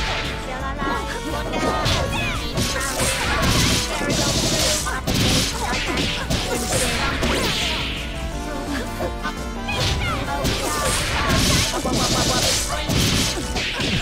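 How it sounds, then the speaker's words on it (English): Catastrophe Cannon barrage in a fighting video game: a dense, loud run of smashing impacts and whooshes over busy game sound and music, with talk over it. "Catastrophe Cannon coming out strong here."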